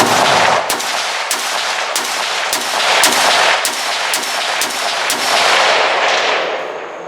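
A Zastava M91 designated marksman rifle fires a steady string of about a dozen loud, sharp shots at a regular pace, each crack ringing out over a continuous outdoor echo, with no voices.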